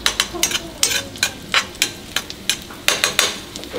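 Chopped garlic frying with pork ribs in a pan: a steady sizzle broken by repeated scraping stirs of a utensil against the pan, close and fairly loud in an uneven rhythm, with no talk.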